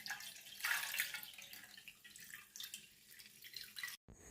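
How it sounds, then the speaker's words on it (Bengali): Water from tobacco leaves soaked for three days is strained, giving a steady close trickle and patter of liquid that runs for several seconds, then stops abruptly near the end. "এবার জলটাকে ছেঁকে নেব।"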